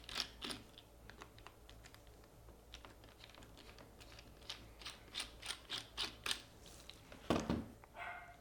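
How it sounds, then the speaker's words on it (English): Small screws being unscrewed from the back of a Harmony Elite remote, quick faint ticking clicks of a small driver in uneven runs, close and quiet. "Now we've got two screws to take off here."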